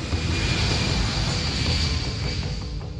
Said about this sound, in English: The Boeing 777 leaves the tarmac of Kuala Lumpur Airport for the very last time.